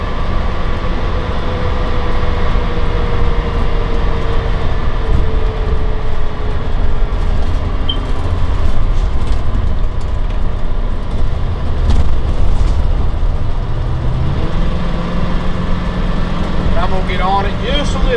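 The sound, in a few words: 2004 Winnebago Adventurer 35U motorhome driving on interstate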